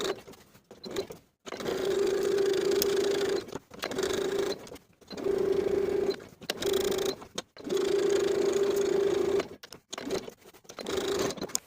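A domestic sewing machine edge-stitches a pocket onto a plaid wool jacket sleeve, its steady whirring motor running in several long bursts with short pauses between, close and loud, with no voices.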